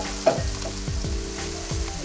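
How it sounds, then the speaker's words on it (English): Mushrooms sizzle in a hot pan as a utensil stirs them, a steady frying hiss with a few soft scraping strokes at a regular pace, heard close. "Give a little stir to the mushrooms."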